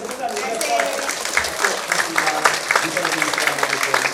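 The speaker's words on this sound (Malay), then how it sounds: "Kita berikan tepukan kepada Prof." Audience applause at a university programme, a steady patter of clapping from a modest crowd, with voices faintly mixed in beneath the claps.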